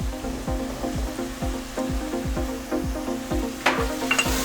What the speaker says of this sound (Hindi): अब इसको हम मसाले को अच्छी तरह भून लेंगे।